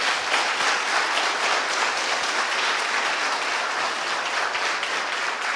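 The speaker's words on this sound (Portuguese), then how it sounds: "Vamos aplaudir o nosso Deus." A congregation at a Sunday celebration service applauds, a dense, sustained burst of clapping from many hands filling the hall evenly throughout.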